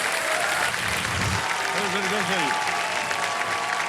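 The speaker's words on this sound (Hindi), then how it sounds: "तालियां" A studio audience applauds throughout at a televised Indian quiz show, dense and steady, with a host's voice speaking briefly over the clapping.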